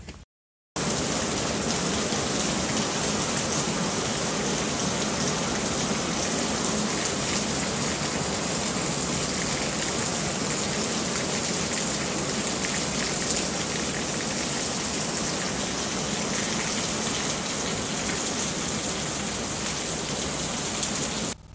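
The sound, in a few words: pouring rain in Chiang Mai during rainy season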